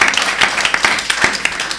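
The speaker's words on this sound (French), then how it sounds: "Ah bah si, on peut applaudir." An audience applauding during a French interview program, scattered hand claps ringing briefly and fairly close, without voices.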